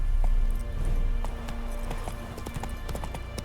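Horse hooves clip-clopping at a steady walking rhythm in The Witcher 3: Wild Hunt, close and clear over a low background rumble.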